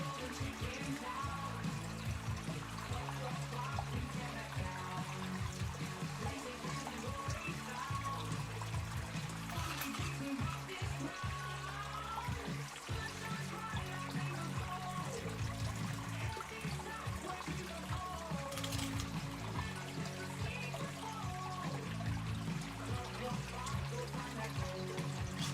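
Water runs through a gold sluice outdoors, a continuous close pouring and trickling rush that sometimes swells, with a voice talking over it now and then.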